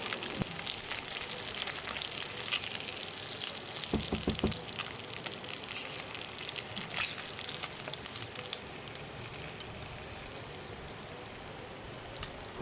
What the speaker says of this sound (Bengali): সুন্দর করে মাছগুলো দেখতেই পাচ্ছ ভাজা হয়ে গেছে